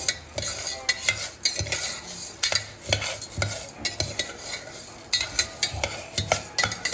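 Food fries in a pan while a utensil stirs and scrapes it with quick, repeated clinks over a steady sizzle. The sound stays close and continuous, with no talking.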